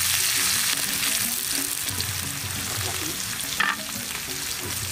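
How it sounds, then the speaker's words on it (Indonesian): Wild mushrooms stir-fry in oil in a pan, giving a steady close sizzle with scraping stirs and one brief clatter, no voices. "Tinggal lanjut kita tumis."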